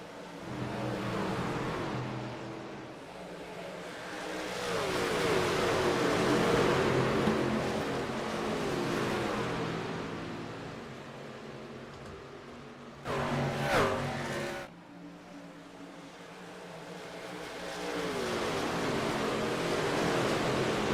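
Racing trucks in the iRacing Truck Series roar around the concrete oval at Nashville Superspeedway, their engine drone swelling and fading as packs pass, with a sharp louder burst midway before the roar builds again.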